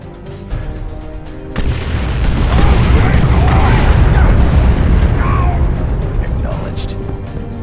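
Troops opening fire in the video game Dawn of War II, with a sudden booming burst that builds into a sustained roar of explosions and battle noise, loud and close, peaking in the middle before easing slightly.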